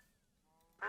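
A duck in the Minecraft video game gives a single short nasal quack at the very end, after a near-silent moment with faint electronic tones.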